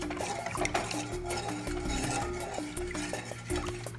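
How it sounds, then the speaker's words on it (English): A spoon stirs salt into vegetarian chili in a pot, giving a soft, continuous scraping and sloshing close by, fairly quiet with faint clinks. "Stir that up."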